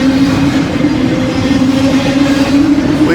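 A train rolls along a railway passing siding, heard close and loud with a steady rumbling roar and a sustained metallic whine from the wheels throughout.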